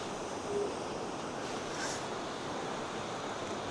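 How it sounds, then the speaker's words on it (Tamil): Water runs steadily past a spot at a Sri Lanka site, a continuous broadband rush with faint wind, even in level and heard from moderately close, with no voices. "அந்த இடத்தால அப்படியே தண்ணி போகுதில்ல."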